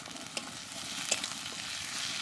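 Chopped tomato hits onions in a hot pan, giving a soft, continuous sizzle with a few light stirring clicks, heard alone and fairly quiet.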